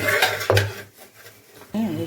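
A spoon clinks against a dish of cooked small fish in a home kitchen, a few sharp knocks near the start, with someone speaking before and after.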